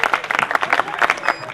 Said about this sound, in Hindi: एक बार पूरा सदन एक बार तालियों से बधाई दीजिएगा